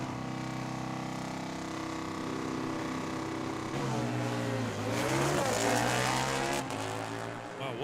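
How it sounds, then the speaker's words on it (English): A drag racing motorcycle roars down the strip at Tucson Dragway, a loud sustained engine drone with rising and falling pitch sweeps as it revs, close and continuous throughout. "Wilson's bike is really kind of hipping and hopping, and Justin ends up shutting it off after a 10 light."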